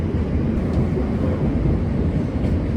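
A Queens Boulevard Z subway train rides the double-track line between stations, a steady loud low rumble of wheels on rails with no voices.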